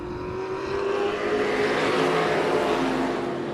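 Modified race cars on the track at Tucson Speedway roar in a loud, steady engine drone with a rising pitch as they accelerate, with no talk over it.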